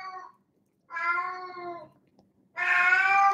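A cat meows three times up close, the first short, the second a longer drawn-out cry and the third loudest, with clear pauses between them and no one talking.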